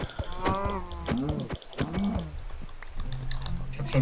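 Blocky Minecraft cows give a few short, drawn-out moos in quick succession, with faint clicking like keyboard taps underneath and low background noise between the calls.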